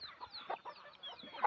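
Native desi chickens cluck softly in a poultry shed, a few faint, scattered calls with light scratching close by.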